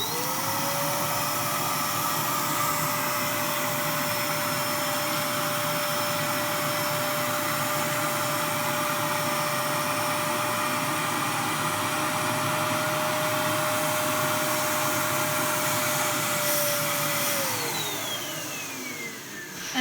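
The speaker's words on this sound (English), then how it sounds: "So let me get the vacuum." A vacuum cleaner draws air out of an Egemen's Magic Saver storage bag filled with yarn, a steady, loud, close whine that runs unbroken and rises sharply in pitch near the end as the bag collapses and the airflow is choked off.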